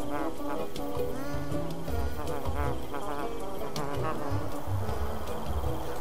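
Buzzing of a bee in a video game about a busy bee and a mouse, a steady insect drone running throughout over layered game music and effects.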